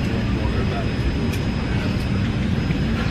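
Airplane engines droning inside the cabin before takeoff on a flight from New York to Florida, a steady broadband roar with a faint high whine, continuous and enveloping.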